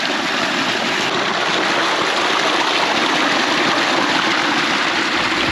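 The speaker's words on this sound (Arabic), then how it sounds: "ميه جوفيه سخنه على سطح الارض." Hot groundwater flows across the ground surface in an Egyptian rural area, a loud, steady rushing gush of water that runs continuously and close by, with no voices over it.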